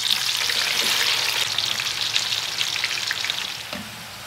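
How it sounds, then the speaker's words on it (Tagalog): Steady crackling sizzle of sweet potatoes frying in hot oil, loud and continuous, fading slightly toward the end. "Prito naman po natin yung ating kamote."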